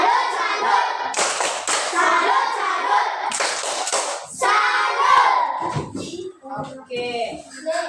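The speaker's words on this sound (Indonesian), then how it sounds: "Tepuk tangan untuk kita semua" In a classroom, a group claps their hands in short, loud, patterned bursts with thumps. Voices chant and talk between and over the claps.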